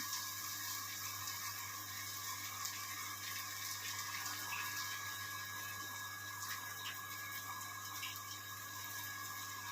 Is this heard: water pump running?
yes